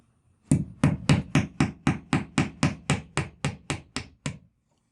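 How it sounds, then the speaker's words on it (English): A picture hanger being hammered into a wall with about fourteen sharp, evenly spaced taps in a brisk steady rhythm, close and clear, each hit ringing briefly, with no talking. "we're gonna put our first picture hanger in here"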